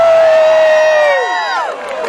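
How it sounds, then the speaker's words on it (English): A crowd at a Massapequa Tea Party rally cheers loudly and steadily, with a sustained high whoop or shout rising above it and then falling away as the noise eases. "What a crowd."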